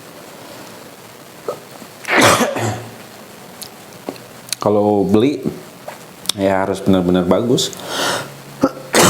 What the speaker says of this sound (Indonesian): Aduh, sorry batuk